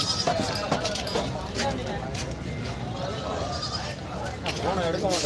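Young goats bleat at the Ettayapuram goat market amid busy crowd noise, their cries rising and falling over constant chatter and people talking nearby.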